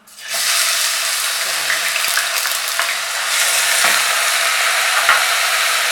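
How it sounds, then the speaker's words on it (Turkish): Steady sizzling of two chopped onions frying in hot oil in a pan, loud and close, with occasional clinks and stirring sounds throughout. "Yağım ısındıktan sonra da soğanımı koyacağım."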